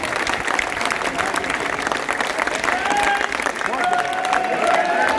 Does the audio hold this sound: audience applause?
yes